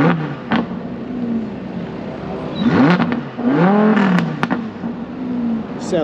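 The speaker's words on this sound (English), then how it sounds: "There's a lovely Lambo about to leave as well" A Lamborghini at a car meet revs its engine as it pulls away, with rising and falling throttle blips over a steady idle and general background noise.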